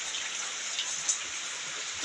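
Light first monsoon rain falls in the Konkan countryside, a soft, even hiss of fine drops with one small patter rising briefly near the middle.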